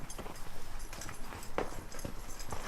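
A horse trots during a riding lesson, its hooves clip-clopping in a quick, even rhythm at moderate distance under low background noise.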